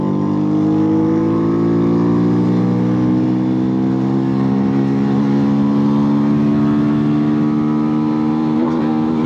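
A Malaguti Spectre 125 GP motorcycle engine drones loudly and continuously while riding, its pitch climbing gradually as it revs, close and unbroken for the whole stretch.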